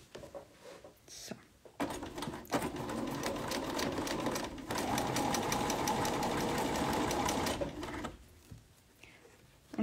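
Close, quiet domestic sewing machine stitching a quilt block, with a short burst early on and then a steady whirring run of several seconds, while a pedal sticks and a few soft handling noises are heard.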